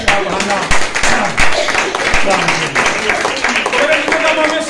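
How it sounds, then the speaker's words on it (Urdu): A church congregation at a Palm Sunday sermon bursts into loud, sustained clapping, a dense crackle of many hands holding steady for several seconds, with voices mixed in. "زوردار تالیاں"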